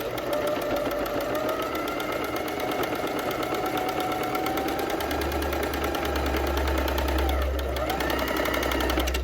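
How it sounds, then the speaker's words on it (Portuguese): A domestic sewing machine stitches knit fabric with a steady, rapid mechanical chatter of needle strokes up close. A low motor hum swells partway through as the machine runs continuously. "Eu não vou fazer nada, eu vou só costurar, tá?"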